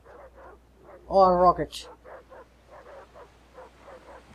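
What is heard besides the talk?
dogs barking in the video game Far Cry 3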